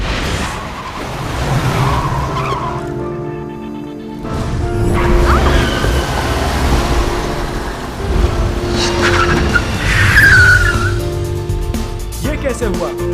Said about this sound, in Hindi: ये गाड़ी खुद ब खुद कैसे पार्क हो गई